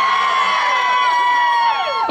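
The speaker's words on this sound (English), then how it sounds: "Somebody scream out there!" An outdoor crowd at a riverside rock concert screams and cheers loudly and continuously, with shrill whoops and whistles rising over a dense, steady roar for the full stretch.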